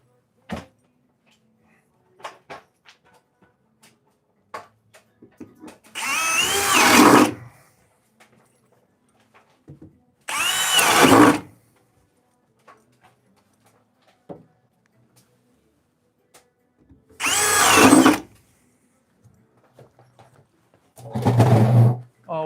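Four loud bursts of a power drill boring through a wood basement joist, each lasting a second or two, separated by quiet gaps with scattered small knocks and clicks.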